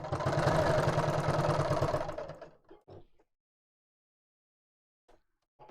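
A sewing machine runs steadily at home for about two seconds, stitching around a square, then stops, leaving a few faint clicks and near silence.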